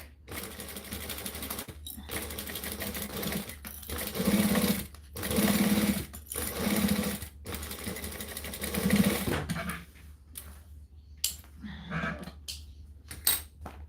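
A sewing machine stitches a bag in several steady bursts of rapid mechanical chatter, pausing briefly between runs as the fabric is repositioned, then giving way to quieter handling clicks and rustles near the end.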